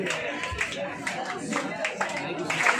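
Applause from a gathering honouring top students at a chemistry coaching class: a steady, dense wash of clapping that continues evenly throughout with no break.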